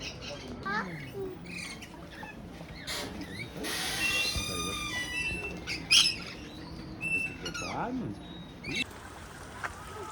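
Small birds in a garden aviary at the Trauttmansdorff Castle gardens in Merano chirp and squawk in quick, overlapping bursts, with brief wing flaps, over steady outdoor background and some talk.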